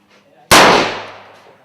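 A single sharp gunshot from a lever-action .22 Magnum rifle during rifle sighting-in, a loud close crack that decays over about a second after faint background noise.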